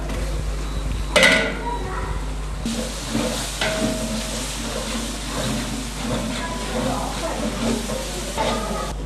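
Onions, ginger and garlic frying in a pan for mutton biryani, a steady close sizzle with scraping stirs and occasional clatter of a utensil against the pan, under a low constant hum.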